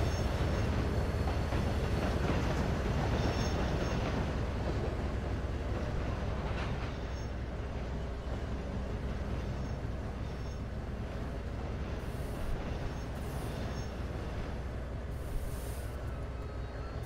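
SD40 diesel locomotives on a local train rumble past in the Trainz railroad simulator, a steady low rolling drone with a faint rhythmic wheel clatter that gradually eases off.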